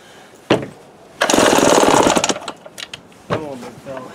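Remington Super 754 chainsaw with a cold-natured carburetor, running only on choke: a brief pop, then a loud rough burst of engine that sputters and fades, with someone talking nearby.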